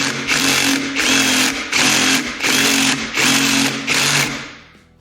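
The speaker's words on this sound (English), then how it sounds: "Once you've got a small hole drilled down the center of these things, step up to a larger bit" An electric drill bores out a rivet on a C3 Corvette brake shoe, whining in four or five short bursts separated by brief pauses, loud and close before winding down at the end.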